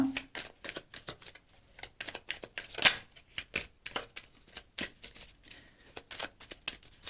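A tarot deck is shuffled and cut by hand, giving a quick run of crisp, riffling card flicks and slaps in a close, steady rhythm, with one sharper snap near the middle and no talking.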